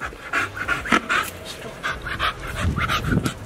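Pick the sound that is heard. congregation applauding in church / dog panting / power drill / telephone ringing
dog panting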